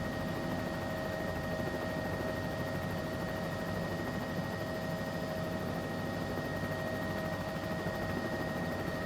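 CowanSim Bell 206B3 helicopter engine in Microsoft Flight Simulator 2024 at runway lineup, a steady loud turbine whine and rotor roar with constant tonal hums, unbroken throughout and with no talking.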